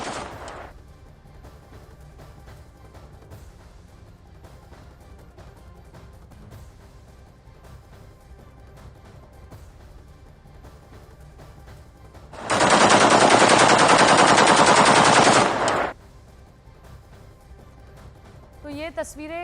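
Gunfire and machine gun bursts from rebels at the presidential palace in Syria, heard as a loud sustained rattle of shots for a few seconds amid quieter background noise and distant pops.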